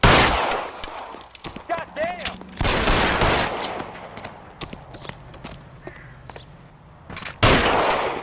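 Sporadic gunshots ring out in LA Noire, a few sharp loud cracks spaced apart among hoof-like clatter and tense voices shouting.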